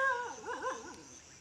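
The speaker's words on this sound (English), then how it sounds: "So guys, the crazy dog are just over here." A dog gives a wavering, rising-and-falling howl mixed with short yelps, close and fairly loud, lasting just over a second in an outdoor yard setting.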